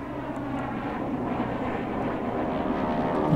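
Airplanes drone overhead in the World War II stealth game Velvet Assassin, a steady low engine rumble that swells slightly louder toward the end, with no talking.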